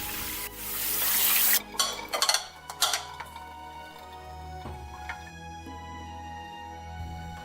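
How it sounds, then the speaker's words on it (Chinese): Pickling brine is poured off salted white radish, which is then rinsed: a short rush of splashing water, then a few clattering knocks of a bowl or container, with soft music playing underneath. "把腌出来的水倒掉， 冲洗一下，晾干。"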